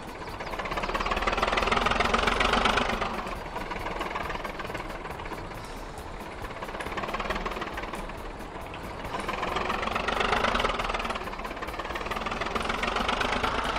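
An IMT 539 tractor's diesel engine chugs steadily while towing a Lamborghini Huracan toward a village, a rough knocking drone that swells and eases in long waves, with no voices.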